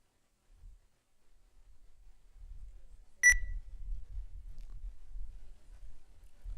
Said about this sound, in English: Now you may press the buzzer if you know the answer.